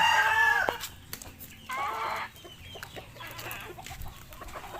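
Kelso gamefowl rooster crowing close by, a loud drawn-out crow at the start followed by a second shorter crow and scattered clucks and rustles from nearby fowl.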